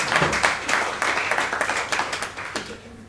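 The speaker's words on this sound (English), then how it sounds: "Now go, clap." An audience at a youth justice conference claps steadily, a moderate round of applause with rapid overlapping hand claps that holds throughout and thins slightly near the end.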